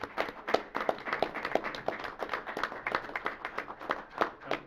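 Council meeting attendees applaud a newly promoted planning manager, producing a modest round of individual hand claps that carries on steadily, fairly quiet and slightly distant in the room.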